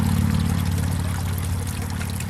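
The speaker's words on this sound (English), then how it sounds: "The waterfall's not quite as vigorous as it should be." Water from a pump-fed garden pond waterfall pours in a steady, close, continuous splash and trickle, the flow somewhat weak.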